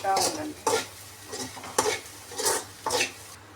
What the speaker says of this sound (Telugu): మధ్యలో నేను ఫ్రై చేస్తూ ఉంటాను.